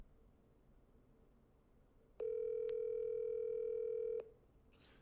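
A telephone sounds during a call: one sustained, steady electronic tone lasting about two seconds, clear and fairly loud over a quiet room background, then stopping abruptly.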